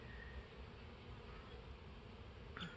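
Honeybees buzzing around apiary hives on an overcast day, a steady, low, continuous hum of many insects close by, with no voices.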